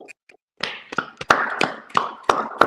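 A group of people clapping hands together in a steady rhythm, about eight sharp claps roughly a third of a second apart, close and fairly loud, with no talk.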